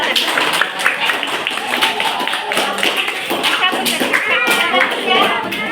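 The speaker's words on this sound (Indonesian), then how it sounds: "Tepuk tangan" A class of students clapping together in a lesson, brisk overlapping hand claps close by with children's voices mixed in.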